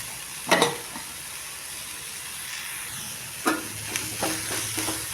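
Cluster beans with grated coconut being stirred in a hot pan, spatula scrapes at the start and again near the end over a steady, soft sizzle.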